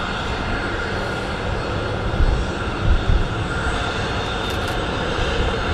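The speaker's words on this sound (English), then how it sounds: "Ryanair 737-800. It's actually quite quick." A Ryanair Boeing 737-800 passes at Manchester Airport with a sustained, loud jet engine roar and rumble, broad and steady with slight swells, no talk over it.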